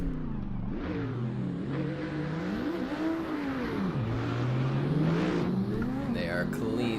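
Drift car accelerating hard through a drift run at Road Atlanta, its engine note rising and falling steadily and loudly for the whole stretch while a commentator talks over it.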